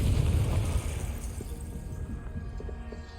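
A Confringo blasting spell explodes in Hogwarts Legacy, a deep rumbling boom that fades over a few seconds into a low, decaying roar.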